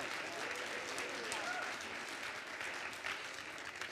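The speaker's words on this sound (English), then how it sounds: "how about we do a round of applause for all five of our teams?" Sustained applause for five competing teams at a live idea-competition event, with a crowd clapping steadily throughout at moderate, somewhat distant level.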